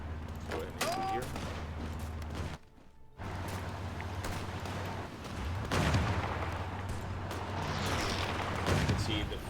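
Battle in Hearts of Iron IV, with bursts of gunfire and heavy artillery booms in a dense, rolling fusillade, a brief drop to near silence, then sustained firing that builds toward the end.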